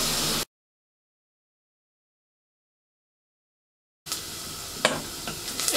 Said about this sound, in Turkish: Yan içerisine doğradığım kuru soğan ekliyorum.